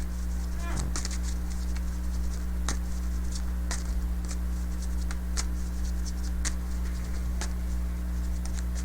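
Tarot cards being shuffled by hand, a soft continuous papery riffling with scattered sharper card snaps over a steady low hum; no clear talk stands out.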